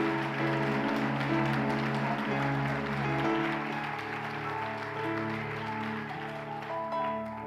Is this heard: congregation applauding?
yes